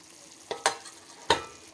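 Spoonfuls of besan batter go one by one into hot oil on a low flame to fry as fritters, making three sharp sizzling bursts that fade into a quiet, steady crackle.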